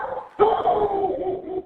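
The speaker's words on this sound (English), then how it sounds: "Screams and barks" Dogs barking and yelping during a violent dog attack on a man, a loud, continuous burst of agitated canine noise with screaming mixed in, close by and sustained.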